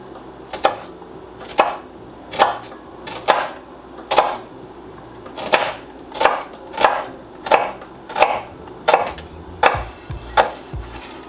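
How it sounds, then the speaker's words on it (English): A knife slicing an onion on a cutting board, a series of about fifteen crisp chopping taps at a quick, slightly uneven rhythm, each sharp knock clear and close with quiet pauses between. "I'm gonna make small slices along the onion"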